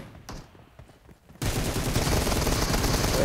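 Sustained automatic M416 rifle fire in PUBG Mobile bursts in loud and close after a quieter stretch, a dense continuous rattle of shots.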